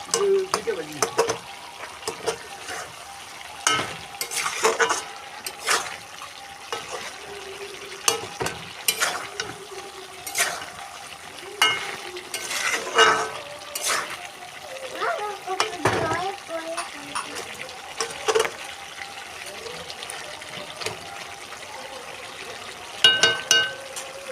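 Jackfruit curry cooks in a pot after water is added, with stirring scrapes and sizzling, bubbling sounds while a person talks at intervals nearby.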